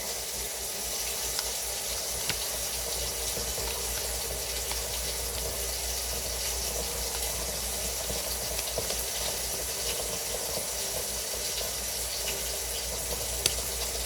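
Hot water runs steadily from a tap into a sink, a constant even hiss and splash held at the same level throughout, no talk.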